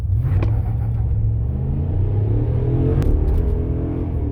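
The 5.7L V8 of a 2017 Dodge Ram 4x4 pickup roars loudly and continuously as it accelerates from a stop, with rumbling low harmonics rising in pitch and no voices.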